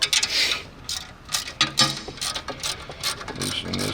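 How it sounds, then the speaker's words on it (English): A 1/2 inch ratchet wrench loosens a bolt on the sill of a pad mount transformer, giving bursts of close, rapid metallic clicking with short pauses between strokes. "And take our 1/2" wrench."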